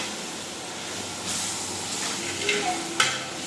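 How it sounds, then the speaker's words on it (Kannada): Chili powder hitting hot oil in a large biryani pot, giving a steady sizzle with a few sharper bursts of frying and stirring, loud and close, with no voices. "ಈಗ ಸ್ವಲ್ಪ ಮೆಣಸಿನ ಪುಡಿ ಹಾಕ್ತಾ ಇದ್ದೀನಿ. ಯಾಕಂದರೆ ಎಣ್ಣೆನಲ್ಲಿ ಮೆಣಸಿನ ಪುಡಿ ಹಾಕೋದ್ರಿಂದ ಬಿರಿಯಾನಿ ಕಲರ್ ಒಂದು ಸ್ವಲ್ಪ ಚೆನ್ನಾಗಿ ಬರುತ್ತೆ."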